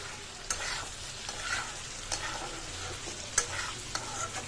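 Chili powder stirred into potatoes frying in a pan for a vegetarian biryani, a steady soft sizzle with a few sharp scraping stirs at irregular intervals, close and fairly quiet.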